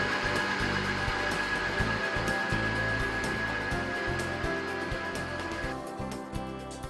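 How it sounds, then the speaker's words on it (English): A meat grinder runs with a steady, loud motor whine as beef, vegetables and fruit for raw dog food are fed through it, the drone holding constant throughout. "we'll take the entire mixture and send it through the grinder one more time to incorporate all of the ingredients"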